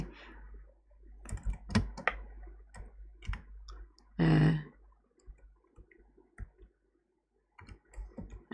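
Fingers type on a computer keyboard while entering school enrolment data into a Google Slides chart, irregular close clicks in short bursts with pauses and one louder rustling thump in the middle.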